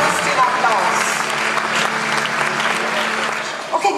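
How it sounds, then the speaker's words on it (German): An award ceremony audience applauds loudly in one sustained burst of dense clapping from a crowd, continuing for the whole stretch and fading slightly at the end. "Kosten Sie noch den Applaus."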